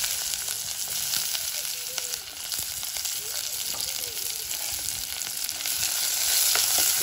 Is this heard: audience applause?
no